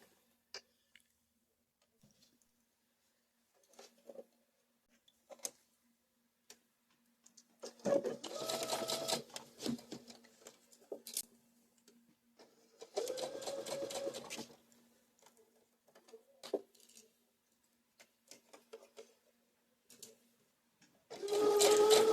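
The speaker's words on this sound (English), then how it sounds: "you're going to stitch from the widest part of the dart to the smallest, and then you'll just sew right off" A sewing machine stitches a dart in muslin, sewing from the wide end to the point, in three short close bursts of whirring stitches separated by quiet pauses with faint ticks and handling sounds.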